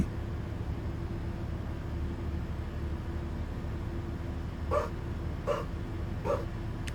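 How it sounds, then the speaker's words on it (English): Three short barks from a dog, fairly distant, spaced about a second apart over a steady low background hum. "I thought I heard the dogs barking."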